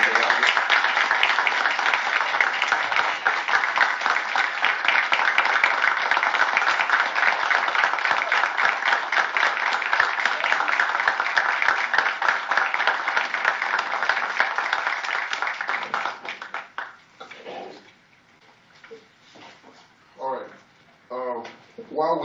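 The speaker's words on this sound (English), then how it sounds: "we give a hand of applause to the" Audience applause at a county planning board meeting, a dense sustained roar of clapping for about sixteen seconds before fading out into a room with scattered talk.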